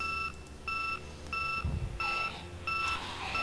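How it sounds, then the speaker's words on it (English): An alarm system in the video game Project Zomboid beeps in a steady repeating pattern, about four evenly spaced electronic tones over a low background rumble, with no talking. "That alarm system thing is pretty interesting."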